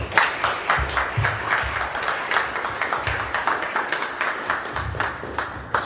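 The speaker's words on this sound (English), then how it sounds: "maybe give them another round of applause" Audience applause at a hackathon awards ceremony, a steady wash of many hands clapping at moderate distance, with individual sharp claps poking through and low rumble underneath, lasting throughout without speech.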